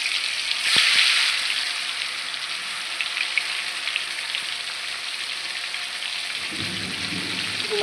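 Pieces of pangas fish fry in oil in a wok, giving a steady, even hiss of sizzling throughout, with a brief clatter early on and a low thump near the end, and no voices.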